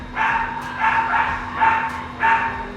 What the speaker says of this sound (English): please pardon me for my doggy